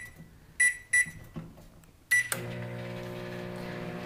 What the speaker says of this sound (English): I just put the rice sock right into the microwave and I am going to set it for